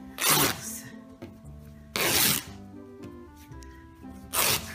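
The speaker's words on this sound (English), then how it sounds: "I come up here and I cut just a little bit into it." Scissors cutting into pillowcase fabric for a dress: three short, crisp snipping bursts spaced roughly two seconds apart, close and clear over faint background hum.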